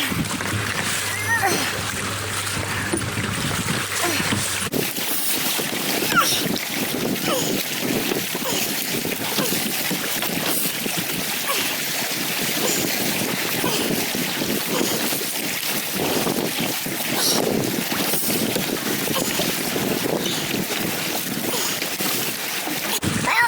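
Strong waves on Lake Superior wash and splash around a kayak in steady, close wind-buffeted noise, with a dog and an eagle nearby and no voices.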